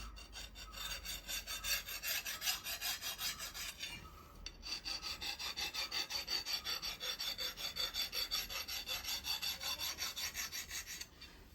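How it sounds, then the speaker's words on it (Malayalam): A hand file rasps across an untempered steel blade at a blacksmith's forge in a steady, rhythmic back-and-forth of close, bright strokes, briefly pausing once before resuming. "നമുക്കിത് അരം വെച്ച് രാവാൻ പറ്റണതും അരം പിടിക്കണതും"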